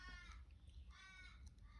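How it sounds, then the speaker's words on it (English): Two or three harsh caws from crows outdoors, faint and distant, heard through a quiet room with a low rumble beneath. "Oh, listen to those crows outside."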